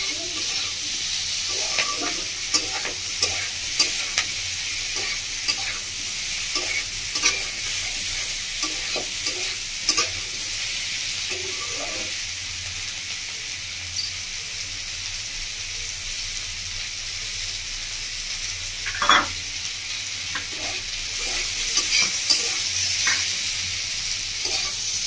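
Vegetables and paneer pieces frying in a pan for paneer pasta: a loud, steady hiss of hot oil with scattered scrapes and knocks from stirring, heard up close and without any talking.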